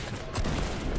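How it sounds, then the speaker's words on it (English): Gunfire from the video game Fortnite crackles in a brief, dense burst of rapid shots lasting about a second. "This guy just shot me while he was gliding"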